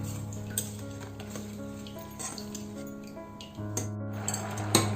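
A spoon stirs gourd kheer in a pot after the sugar goes in, with faint scraping and light metallic clinks over a steady low hum, close and quiet.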